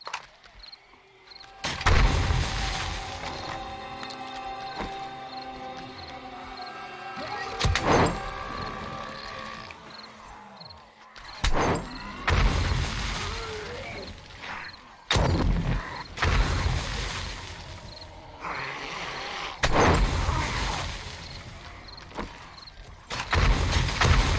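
Repeated loud booming blasts and crashes ring out during a zombie horde night in the video game 7 Days to Die, several heavy bursts spread across the stretch with rumbling and clatter between them.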